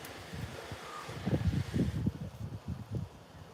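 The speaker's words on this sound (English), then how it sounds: "So it's a bit windy here, guys." Gusts of wind buffet the microphone in a garden with planter boxes, soft rumbling bursts that rise and fall over a few seconds, fairly quiet with no talking.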